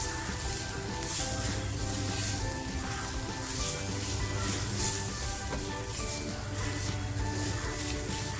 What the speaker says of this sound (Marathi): बघा आपला मसाला छान फ्राय होत आला